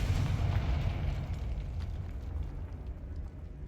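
A Confringo spell blast in the Hogwarts Legacy video game, a heavy booming explosion that hits at once and rumbles off slowly, loud and deep, with no talk over it.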